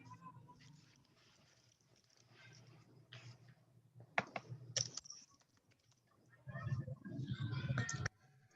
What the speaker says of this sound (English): Just type anything in a name.